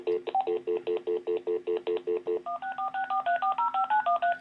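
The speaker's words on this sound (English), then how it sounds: "So if I call this number back and actually try and vote again from this phone" Telephone keypad dialing tones for a call-back to a phone voting number, a steady run of about twenty short evenly spaced beeps, the first half on a repeated pitch pattern and the rest stepping through varied pitches, loud and clear over a faint steady hum.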